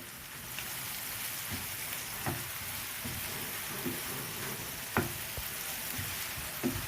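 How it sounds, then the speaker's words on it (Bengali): Ginger-garlic paste sizzles in a pan for a chicken Kolhapuri masala, giving a steady broadband frying hiss with occasional soft clicks and scrapes as it is stirred. "এবার এরই মধ্যে একই সঙ্গে দিয়ে দেব আদা রসুন পেস্ট, দিয়ে ভালো করে নাড়াচাড়া করে নেব।"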